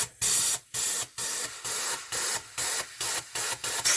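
Air compressor blowing air into a Kingkat chassis tyre to seat the bead, heard as about ten short, evenly spaced hissing bursts with brief gaps between them.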